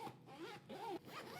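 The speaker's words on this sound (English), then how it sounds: "When I open the quick access pocket" YKK AquaGuard water-resistant zipper on the quick access pocket of an X-Pac sling bag being pulled open, a close, steady ripping zip in several quick strokes with short pauses between.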